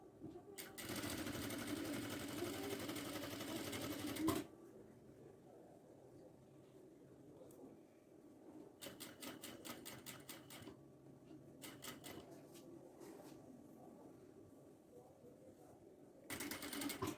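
A sewing machine stitches a cotton kurti in several bursts of fast, even whirring, one long run and then shorter intermittent runs separated by quiet pauses.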